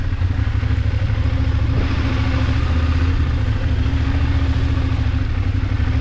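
BMW motorcycle ridden off-road on a dirt track toward a Cameroon beach, its engine a steady loud mid-pitched drone with faint clatter throughout, no talking.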